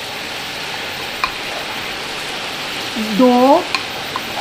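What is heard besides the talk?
minced garlic frying in hot oil in a pan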